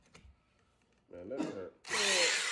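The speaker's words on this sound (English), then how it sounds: "That should be a hammer and drill there." A hammer drill bores into wood in two bursts, a short grinding run followed by a louder sustained whir, close by with faint background noise before it.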